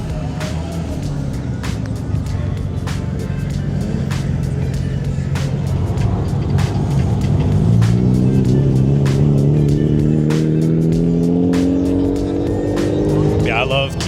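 Several JDM cars roll out of a parking lot at an Arizona Kyusha Club meet, engines droning close by and rising in pitch as they pull away, with a faint tire chirp near the end.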